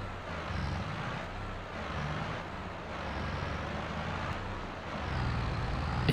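A tractor with a cab climbs uphill in Farming Simulator 22, its engine a steady low drone that holds at a constant level throughout with no talk over it.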